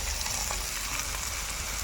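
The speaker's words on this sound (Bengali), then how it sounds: "এখন পেঁয়াজ জিরের গুঁড়ো আর লঙ্কা দিয়ে দেবো" Onion, cumin powder and chilli sizzle steadily in a hot kadai, a continuous close frying hiss with no voices.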